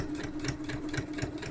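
A sewing machine stitches along a zipper on a small purse, a quiet, rapid rhythmic whirr with regular pulses of the needle, steady and close with no voices.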